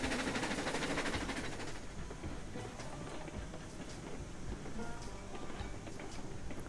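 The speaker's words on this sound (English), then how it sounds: "This is a really slow train." A slow locomotive rolls along in the railroad simulation game Railroads Online, giving a steady, dense rumble with faint rhythmic clicking of wheels on track, continuous and unbroken with no voices.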